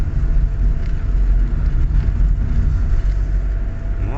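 A car drives along a road through a Ukrainian village, its engine and tyre rumble a steady loud drone heard from inside, with no talk over it.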